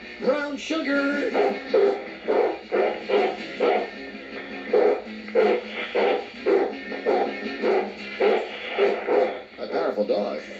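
A powerful dog keeps barking in a fast, even rhythm of loud, forceful barks that go on without stopping, played from a tape.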